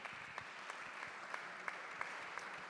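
An audience applauds a guest from Maserati at the 1000 Miglia official presentation, a steady faint wash of many hands clapping, heard from a distance.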